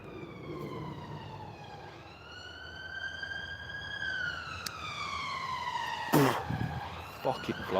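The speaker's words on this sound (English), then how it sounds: "Don't panic, guys, sounds like an ambulance." Ambulance siren wailing and sweeping slowly up and down in pitch, moderately loud as if passing nearby, with a person talking over it and a sharp knock near the end.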